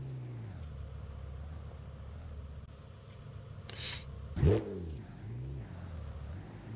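Damaged car engine in BeamNG.drive with a broken oil pan and lost oil, droning steadily then giving a sharp rising rev burst before sagging back to a rough idle, with no talk.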